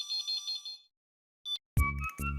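A telephone rings in short electronic tonal bursts, stops briefly, then resumes louder and closer, with no voices over it.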